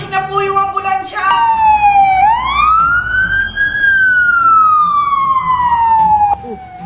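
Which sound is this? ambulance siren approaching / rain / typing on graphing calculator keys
ambulance siren approaching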